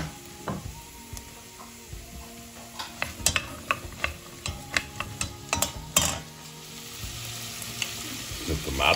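Root vegetables frying in a pot for lamb ragout, a steady close sizzle broken by a run of sharp spoon-and-pot clacks and scraping stirs, with no talking.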